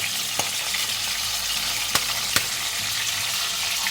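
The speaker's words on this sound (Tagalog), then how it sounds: "Siguraduhin takpan habang nagpiprito dahil matilamsik talaga ang bangus." Milkfish sizzles loudly in hot oil with a constant crackle, broken by a few sharp pops and spatters.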